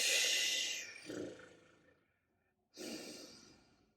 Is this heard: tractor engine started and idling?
no